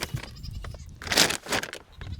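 Farm goats bleat nearby, several overlapping calls with a louder cry near the middle over quiet barnyard noise.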